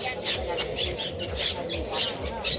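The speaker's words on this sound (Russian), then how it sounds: "Это же попугай орут" Parrots squawking in a city park in Madrid, harsh shrill calls repeating in quick bursts about every half second, loud and close, with people talking faintly underneath.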